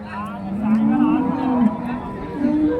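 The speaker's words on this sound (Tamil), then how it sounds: "ஸோ இதெல்லாம் வந்து வாங்கி கட்டியிருக்க மாடுங்க." Cattle low at a rural cow market in Karimangalam, Dharmapuri district, with deep drawn-out moos close by, one long call followed by a shorter one, over a faint background murmur.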